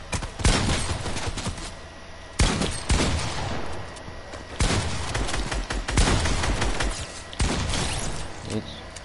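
Rapid bursts of video game gunfire come in several loud volleys with short gaps between them, while a voice talks over the shooting.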